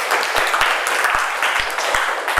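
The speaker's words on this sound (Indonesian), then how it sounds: "Oke, tepuk tangan untuk kita semua." Students at SMP Negeri 7 Nganjuk applaud together in a classroom, a dense steady patter of many hands with sharper individual claps standing out across the whole stretch.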